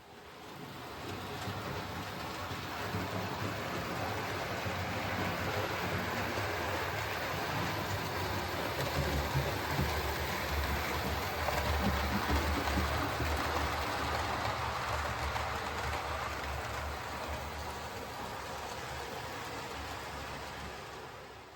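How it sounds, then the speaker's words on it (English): A small model train runs continuously, a steady whirring rumble with faint rail clatter that swells slightly in the middle and eases off toward the end. "So I'm going to run another train"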